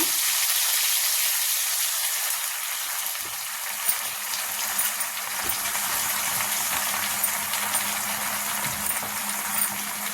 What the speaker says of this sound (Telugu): ఇప్పుడు అదే నూనెలో కడిగి పెట్టుకున్న గోంగూర వేసుకున్నా.